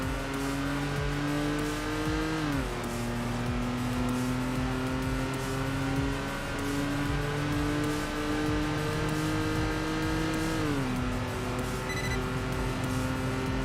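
A minivan's engine strains steadily in a race around the Nordschleife in the video game Enthusia Professional Racing, its loud drone holding one pitch and dropping sharply twice as gears shift, with no talk over it.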